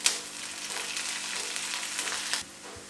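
About a teaspoon of cumin seeds sizzles in hot oil for sabudana kichadi, a loud close hiss that holds steady for over two seconds, then cuts off abruptly.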